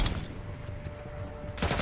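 Rapid gunfire in the video game Call of Duty: Black Ops 6, a dense burst of shots at the start and another at the end, with quieter firing and game noise in between.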